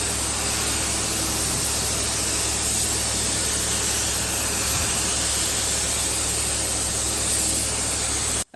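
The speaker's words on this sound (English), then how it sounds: "This is now the second coat of primer I'm putting on the Nova" An aerosol spray gun lays a heavy second coat of primer onto a Vauxhall Nova, a constant loud hiss running without a break for the whole stretch before cutting off abruptly at the end.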